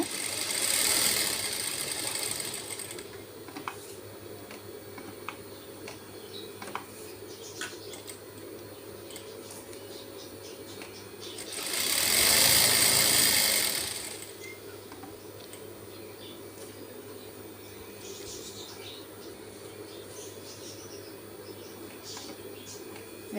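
A sewing machine stitches fabric in two short whirring bursts, one at the start and a louder one midway, separated by quiet stretches of faint clicks and handling noise.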